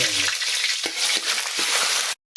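Onion and garlic hit hot oil in a pan with a loud, bright sizzle, punctuated by a few quick stirring clicks, then cut off abruptly into silence.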